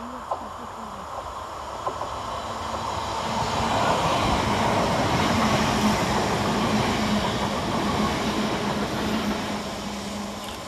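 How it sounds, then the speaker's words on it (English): London Northwestern Railway electric multiple unit 350-101 passes through Smethwick Galton Bridge station, a steady rumbling whoosh swelling over several seconds and holding as the train runs by at moderate distance. "Next passing through 7 minutes late for London Northwestern Railway is 350-101"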